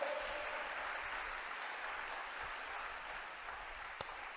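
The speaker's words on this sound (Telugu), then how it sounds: "చప్పట్లు కొట్టు." Faint, steady applause from a church congregation, a soft continuous patter of many hands that stays even throughout and sounds fairly distant.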